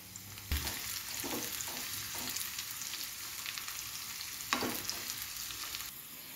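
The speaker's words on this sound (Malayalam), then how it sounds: "ഇതിലേക്ക് നമുക്ക് ചെറിയ ഉള്ളി, കുറച്ച് കരിവേപ്പിലയും കൂടി ഇട്ട് കൊടുക്കാം" Shallots and curry leaves frying in hot coconut oil give a steady, close sizzle, with a few louder crackles and spits as the pieces hit the oil and are stirred.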